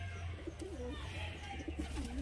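Giribaj pigeons coo nearby after release, several soft rolling coos repeating over a low steady hum.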